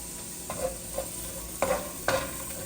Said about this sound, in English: Into this, I'm going to saute those onions.